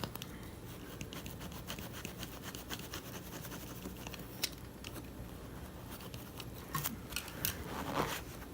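A 3D printed seat harness insert for an SRT4 is trimmed at the edges with soft, continuous scratchy cutting and a few sharper snips, faint and close.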